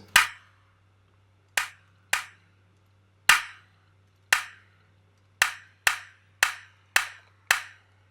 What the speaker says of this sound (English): I honestly like that as a clap already